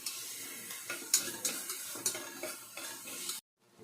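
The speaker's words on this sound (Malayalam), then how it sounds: "ഉള്ളിയും തക്കാളിയും ഒന്ന് വഴറ്റി വന്നിട്ട്" Onions and tomatoes sautéing with salt and turmeric in a pan, a soft sizzle with scraping stirs and light clinks of a spoon, cutting off abruptly near the end.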